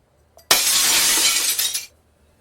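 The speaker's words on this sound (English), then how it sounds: "the glass will definitely be broken into pieces" A drinking glass slips from a hand and shatters on the floor, one loud, sharp crash of breaking glass with a ringing scatter of shards that tails off after about a second and a half, alone with no talk.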